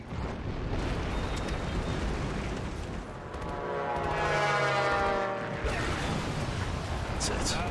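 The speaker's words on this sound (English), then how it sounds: "A quality carpet bombing, courtesy of Mr. Montgomery." Carpet bombing in the strategy game Axis & Allies 2004 rumbles as a dense, continuous roar of game explosions, swelling louder around the middle before easing back, with no voices over it.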